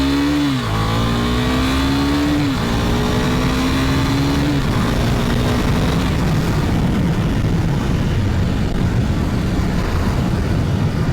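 A 2021 KTM Duke 390 single-cylinder motorcycle accelerates hard toward 45 mph, its engine note climbing through several gear changes before settling into loud, steady wind and road roar.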